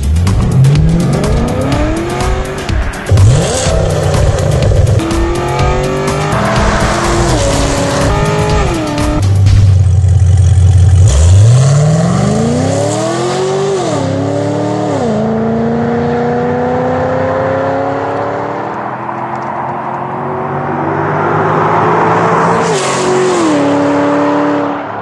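A 2014 Chevy SS fitted with stainless headers and exhaust revs hard and loud, its engine note sweeping up and down in repeated climbs and drops with a harsh, throaty roar that carries through the whole run.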